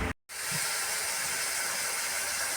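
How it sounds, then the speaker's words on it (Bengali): Cleaned prawns fry in hot oil in a small wok, making a loud, dense, continuous sizzle that starts after a brief silent gap and holds steady without speech. "চিংড়ি মাছ ভালো করে কেটে ছাড়িয়ে ধুয়ে এই যে কড়াইতে তেল গরম করে, ছোটো কড়াইতে দেখেছো, ভাজতে দিয়ে দিয়েছি"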